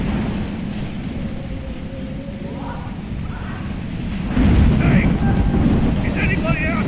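Storm in the video game Life is Strange: a steady roar of heavy rain fills the scene, swelling louder partway through, with faint tonal game sounds above it.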